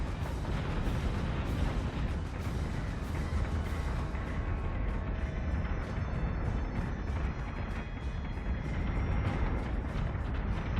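Ships firing weapons in the space strategy video game Battlestar Galactica Deadlock, a dense continuous barrage of rumbling blasts and rapid bursts layered under game music, loud and sustained throughout.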